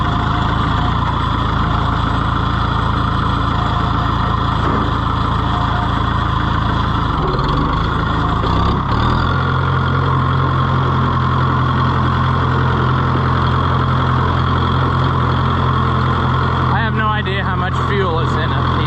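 An Oliver 1365 tractor engine runs close and loud with a steady idling drone, and its pitch shifts partway through as the tractor is driven and steered.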